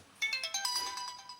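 An AMR-quality ringtone plays from a Sony Ericsson W880i phone: a quick run of thin, bright electronic notes in a short melodic pattern, heard alone and close.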